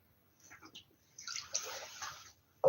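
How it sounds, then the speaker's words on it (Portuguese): Water being sipped from a glass or bottle, with soft slurping and gulping sounds close to the mic, a louder swallow near the end, and no talking. "Deixa eu tomar um golinho de água aqui"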